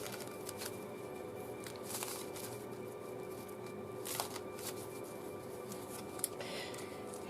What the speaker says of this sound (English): So, last minute shuffle as usual,